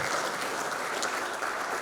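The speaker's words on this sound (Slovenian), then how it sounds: "Ker pogumno še enkrat zaploskajte naslednjemu nagrajencu oziroma dobitniku plakete" Steady applause from an audience at a firefighters' day award ceremony, many hands clapping densely and evenly throughout, fairly loud with no gaps.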